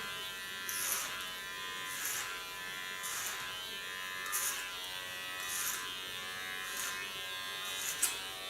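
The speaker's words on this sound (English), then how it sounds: "Start with my clipper, start with a large flat comb" An electric hair clipper buzzes through short hair in clipper-over-comb passes, its close, fairly quiet drone swelling into regular bright bursts about once a second.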